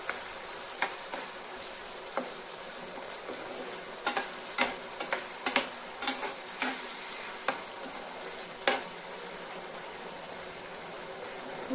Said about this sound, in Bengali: এবার খুব ভালো করে নাড়তে হবে।